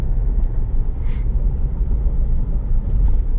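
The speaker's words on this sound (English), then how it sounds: "I just wanted to show you little drivability and driving around in the new 4Runner." A 2025 Toyota 4Runner drives along with a steady low road rumble and muffled engine hum from inside the cabin, a continuous even drone with a few faint higher blips.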